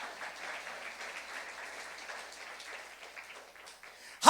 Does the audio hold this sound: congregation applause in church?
yes